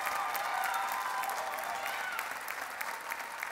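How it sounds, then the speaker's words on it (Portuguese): A standing audience at the Got Talent Portugal 2022 show, packed with rival contestants' supporters, applauds the group Soul Fusion; broad, sustained clapping heard from a distance, fairly soft and even throughout, with a faint thin tone running beneath. "Toda a plateia de pé, que está repleta de claques de candidatos adversários, aplaudir-vos."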